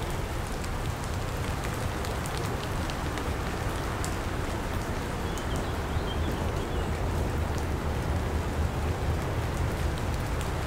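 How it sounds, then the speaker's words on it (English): Heavy rain pours outdoors in a dense, steady hiss of drops striking surfaces, loud and close, with no voices over it. "Just listen to the rain."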